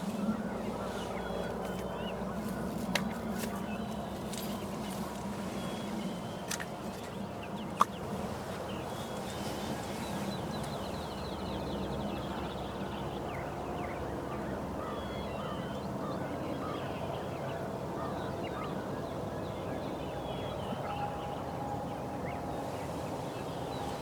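A hen bird calls in short repeated notes, somewhat distant, over a steady outdoor background hum.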